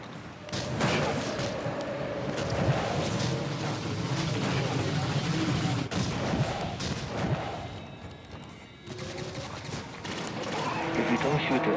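Weapon fire in the Destiny Vault of Glass raid: dense, continuous bursts of shots and impacts with mechanical clatter running throughout, loud and mid-distance, while a player talks over the combat.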